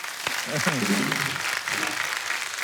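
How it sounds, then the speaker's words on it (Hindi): Applause from an audience, a steady wash of clapping throughout with a voice speaking briefly over it near the start. "एक बार जोरदार ताली हो जाए जरा।"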